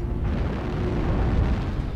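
Air-strike explosions in a mech combat video game, a deep sustained rumbling boom filling the short stretch with no break.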